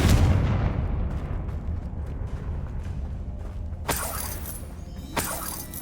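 A Confringo blasting spell in Hogwarts Legacy goes off as a loud, rumbling explosion, followed by two sharp bright cracks later, over a steady low roar of game ambience.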